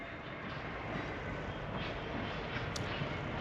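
A steady, loud rumble of a train locomotive moving close by, broadband engine and wheel noise holding constant throughout with no voices.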